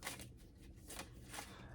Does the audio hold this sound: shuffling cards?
yes